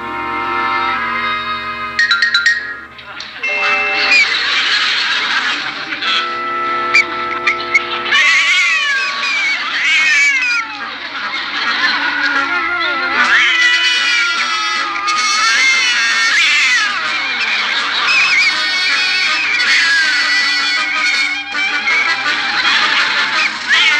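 A person imitates a cat with long, drawn-out meows and wailing caterwauls, loud and close, running nearly nonstop with rising and falling pitch.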